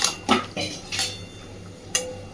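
A few metal clanks and scrapes of a lid and pot on a gas stove as a taro stolon curry is covered, short separate knocks over a low steady hiss.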